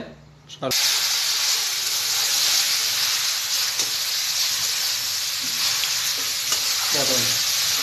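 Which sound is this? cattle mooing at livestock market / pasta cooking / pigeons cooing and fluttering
pasta cooking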